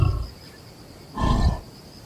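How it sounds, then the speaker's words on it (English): A black-maned lion on the savannah roars once, a deep, loud, close burst lasting about a third of a second, preceded by a low grunt and followed by quiet. "He lets out a prideful roar"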